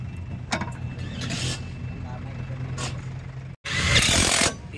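A Suzuki Wagon R engine idles with a low, steady rumble, broken by sharp hissing bursts and a brief drop near the end, while someone talks over it.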